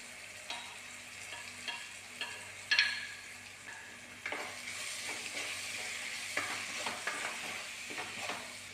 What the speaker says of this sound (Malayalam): ഇത് നന്നായി ഇളക്കി മിക്സാക്കി